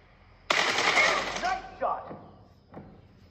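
Gunfire in the mobile shooter PUBG/BGMI played on an iPad, a loud burst of rapid shots over about a second, followed by a couple of shorter, fainter shot sounds.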